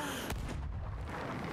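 Cannon fire during a ship battle in the pirate video game Sea of Thieves: one sharp boom early, then a dense, rumbling din of gunfire and explosions that continues throughout.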